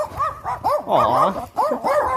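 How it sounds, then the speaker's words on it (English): Several dogs barking in repeated loud yips and bow-wows, close and overlapping, with whimpering tones mixed into the bursts. "that is 5 dogs. I caught the attention of 5 dogs"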